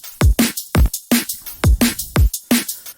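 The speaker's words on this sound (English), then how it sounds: "And on top we've got the hi-hats." Hi-hats tick quickly over a kick and snare loop in an electronic track, giving a busy, driving rhythm of crisp hits with no voices.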